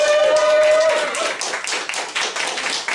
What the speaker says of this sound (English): I think that they deserve a round of applause.